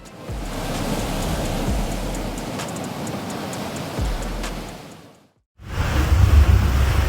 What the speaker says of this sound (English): Homes along the North Carolina coast swayed under pounding waves